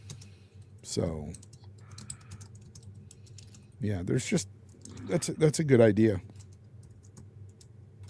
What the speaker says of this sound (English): What you typing, Hargeet?